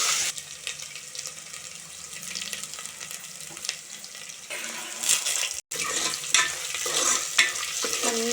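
Ginger paste fries in oil for a homemade chicken curry, a soft continuous sizzle with scraping stirs that grows louder and busier in the second half after a brief cutoff, no talk.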